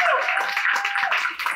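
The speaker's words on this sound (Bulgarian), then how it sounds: "Първо, Бойко Менов, аплодисменти." An audience breaks into applause for Boyko Menov as he is called onto a stage at a live talk event: a dense, steady burst of clapping that stays loud for the whole short stretch, with no voices over it.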